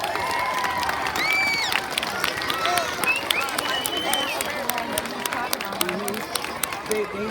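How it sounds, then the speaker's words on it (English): School audience at a Veteran's Day celebration in an elementary school, giving a sustained round of clapping and light cheering that fills the room evenly, with scattered voices mixed in. "let's give Jeremy one more round of applause"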